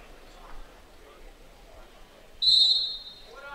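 A sharp, high referee's whistle blast lasting about a second at a college wrestling match, loud over faint background crowd noise, then quieter sounds return.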